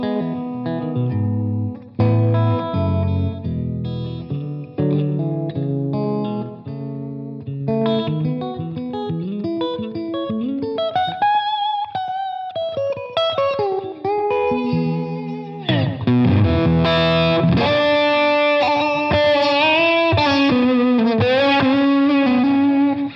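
An electric guitar on its bridge and middle pickups, played through a Revv amp with a cleaner tone, runs through chords and melodic phrases with slides and bends for over twenty seconds, steady and fairly loud, with no talk.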